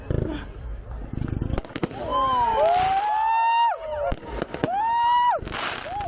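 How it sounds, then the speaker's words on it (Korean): Fireworks go off directly overhead in New Orleans at Christmastime: sharp bangs and crackles mixed with rising whistling shells, several bursts in quick succession, loud and close, with voices of a crowd reacting. "여기서도 불꽃놀이를 시작하네요."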